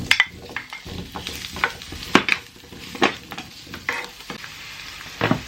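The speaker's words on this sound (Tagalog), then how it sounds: "ipapry muna natin yung ating mga potato and carrots para pa-brownin muna natin no" Potatoes and carrots browning in a hot pan, with repeated stirring scrapes and clinks of a utensil against the pan over a steady sizzle. No voices, and the scrapes come in an uneven rhythm.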